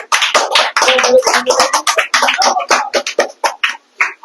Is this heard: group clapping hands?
yes